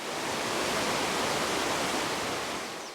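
Powerful rivers rush through Andean rainforest in Tatama National Park, Colombia, a steady, loud broadband roar of fast water that holds evenly throughout with no voices.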